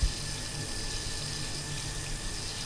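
Hot water running steadily from a tap fed by a combination boiler in a Prague home, a continuous close hiss and splash after a brief knock at the start, with no talking.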